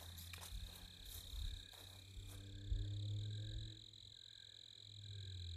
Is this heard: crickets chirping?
yes